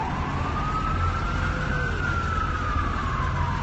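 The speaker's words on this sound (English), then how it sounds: "The police vehicle that'll sit in traffic and keep the siren on." A police siren wails continuously from a vehicle stuck in city traffic, its slow rising and falling tone carrying over a loud, steady street roar.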